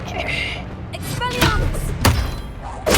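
Spell impacts from the game Hogwarts Legacy: several sharp thuds and bursts land in quick succession, mixed with whooshing effects and a person's voice calling out over them.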